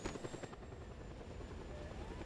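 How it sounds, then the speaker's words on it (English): A helicopter in Just Cause 2 thrums with fast rotor chop, its rhythmic beating steady and moderately loud over a low rumble. "watching the helicopter crash and burn"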